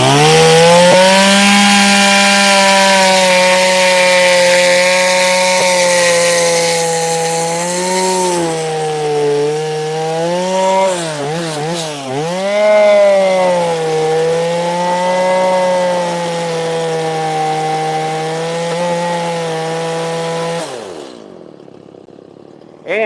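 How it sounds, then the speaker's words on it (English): A carving chainsaw with a sharp chain and modified bar runs loud and steady for about twenty seconds, its pitch dipping and wavering as it bites through wood, then it cuts off abruptly. "Nice sharp chainsaw blade."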